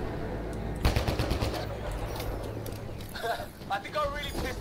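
Rapid automatic gunfire from the video game Mass Effect: Andromeda rattles in a loud burst, then trails into scattered shots, with character voices talking near the end.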